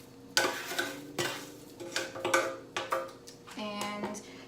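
Crisp, brittle crunching and rustling of freshly baked kale chips in several sharp bursts, close up, with light clinks in between as they are handled.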